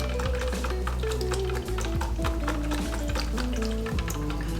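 Beef and broccoli mixture for pepper steak being stirred in a pan, a steady loud sizzle with repeated scraping and clinking strokes of utensil against cookware, no voices.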